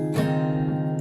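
A single guitar chord is struck and left ringing, its harmonics sustaining steadily for about a second.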